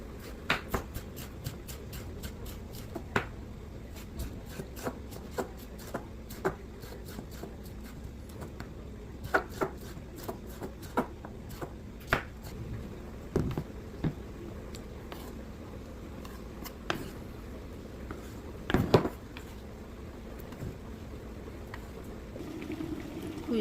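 A knife slices four fresh tomatoes on a cutting board for a callaloo recipe, producing sharp irregular taps and clicks scattered throughout over a low kitchen background hum.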